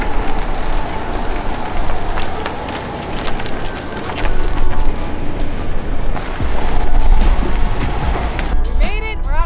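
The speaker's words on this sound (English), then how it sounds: "It's a little windy." Gusty wind buffets a microphone out on the white salt flats near the Nevada-Utah border, a loud, steady broadband rumble that surges and eases throughout, with a brief burst of birdlike chirping near the end.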